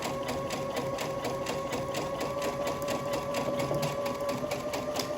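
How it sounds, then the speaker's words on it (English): A Babylock sewing machine stitches a buttonhole on a unisex shirt, its needle tapping in a fast, even mechanical rhythm with a steady motor hum, close and continuous with no talking. "it stitches the left side, and then it travels up the right side with a straight stitch and then does the zigzag on the way back"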